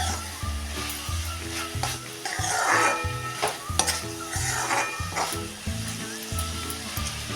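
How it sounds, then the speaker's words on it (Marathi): Carrot halwa being stirred in a pan with added cashews and almonds, steady scraping and stirring strokes over a soft sizzle, close and continuous, with background music playing throughout. "हे कुठलेले काजू बदाम अजून थोडा वेळ हलवून घ्या"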